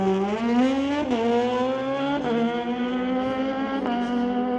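Kawasaki motorcycles launch in a street-legal drag race, engines roaring with rising pitch through quick gear shifts, heard at a distance without speech.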